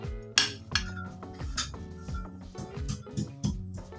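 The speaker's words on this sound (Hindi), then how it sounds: "हम इसमें सारे चने शामिल कर देंगे" Chickpeas are tipped into an open metal pot for chana chaat, producing a busy run of small hard clinks and rattling knocks that land close together throughout.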